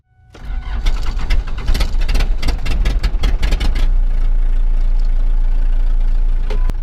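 A 2.9 liter V6 engine is jump-started: a second of cranking, then it catches with sputtering bursts before settling into a steady, loud rumbling idle nearby.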